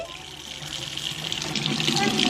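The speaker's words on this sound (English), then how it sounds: "he plays with the faucet a little bit" Water runs steadily from a faucet into a sink as a baby plays with it, a close, continuous rushing that grows slightly louder, with a voice speaking in places.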